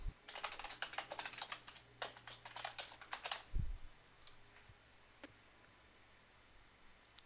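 Computer keyboard typing while entering patient details into a form, a quick run of close, crisp key clicks for about four seconds, then near silence with a couple of faint ticks.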